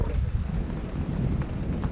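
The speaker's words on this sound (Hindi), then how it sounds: "काफ़ी अच्छी हवा चल रही है।" Wind buffets the microphone near the Ponte Vecchio in Florence, a steady low roar of gusts that fills the whole stretch with no pauses.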